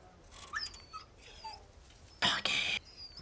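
A dog whimpers in the video game Resident Evil 4 Remake, making a few short, soft, high whines spaced apart, followed by two louder, noisy bursts of sound near the end.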